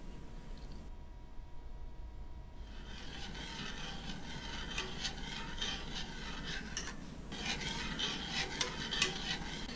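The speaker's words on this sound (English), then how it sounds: "We're going to stir this constantly until it becomes thick enough to coat the back of the spoon." A spoon stirs Grand Marnier soufflé mixture in a saucepan on the heat, a continuous scraping, swishing rub that persists throughout at moderate, close level, with a faint sizzle underneath.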